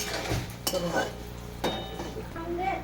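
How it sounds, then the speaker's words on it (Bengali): Amla pickle stirred and fried in oil with jaggery, a close sizzle under repeated scraping stirs and a few utensil knocks against the pan, with no talking. "এটাকে দিয়ে তেলে গুঁড়ে ভাজবো কষবো"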